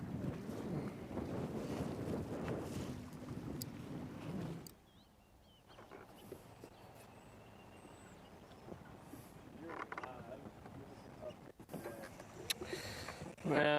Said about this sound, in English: They're getting some of that 15-mile-an-hour wind that we were promised.